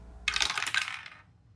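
A short clatter of dice rolled onto a hard surface, bright rattling taps lasting under a second before fading out, close and alone without any voices.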